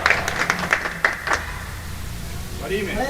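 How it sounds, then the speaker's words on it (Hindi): An audience claps at an event, a burst of scattered hand claps that fades after about a second and a half, followed by a person speaking. "तालियों में कंजूसी ना करें।"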